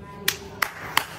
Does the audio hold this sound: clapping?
yes